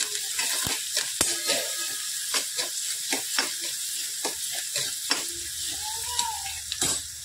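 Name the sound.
sautéing vegetables in a pan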